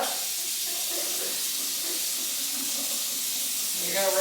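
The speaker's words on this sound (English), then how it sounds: "You're gonna rinse your hands." A tap runs steadily into a sink while someone rinses their hands. The water makes an even, close hiss that doesn't let up, with a faint voice near the end.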